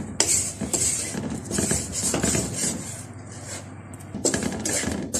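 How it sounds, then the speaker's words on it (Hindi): Aflatoon halwa stirred continuously in a pan, a close, steady run of scraping and clinking from the spoon working against the metal, with brief lulls between strokes. "तो मुस्तकिल इस तरह बस अब चलाते जाना है।"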